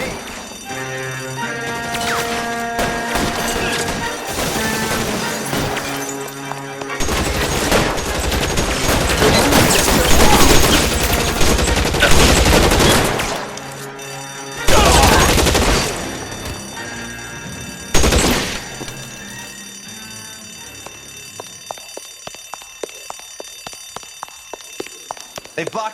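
Gunfire in the LA Noire video game during a shootout inside a building: dense volleys of shots and crashes mixed with shouting voices, two sharp loud bursts near the end, then scattered fainter shots.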